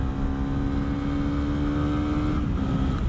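A 2018 Honda CB 250 R motorcycle engine pulls steadily under light throttle, a loud continuous drone with a faint rise in pitch near the end and no voices.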